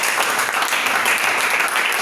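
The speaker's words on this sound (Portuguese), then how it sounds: "Você pode aplaudir o nome do Senhor Jesus aí," A church congregation applauds in the name of the Lord Jesus during a members' gathering, a dense, steady wash of many hands clapping at once that stays loud and even throughout.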